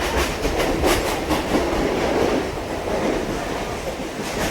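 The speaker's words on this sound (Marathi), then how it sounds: "ऐसे ही ट्रेन आ गए हैं।" A train rumbles and clatters past close by, loud and continuous, its wheels rattling over the rails as it pulls into the station.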